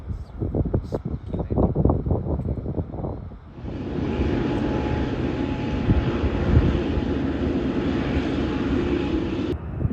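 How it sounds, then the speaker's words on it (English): A KLM Boeing 787-10 on a test flight lands at Everett, a steady jet engine roar heard from a distance after several seconds of rhythmic clattering, the roar holding evenly until it cuts off. "there we have a KLM 787-10 landing into Everett"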